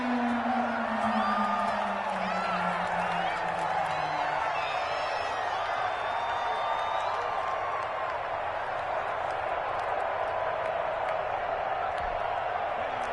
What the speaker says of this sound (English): combined with this crowd noise, makes it very difficult to run offense